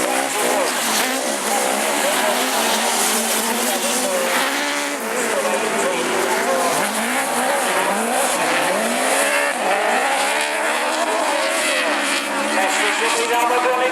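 Autograss race cars roar around a dirt oval on bonfire night in Nottingham, engines revving and wailing continuously at close range with rising and falling pitch, a commentator's voice running over them throughout.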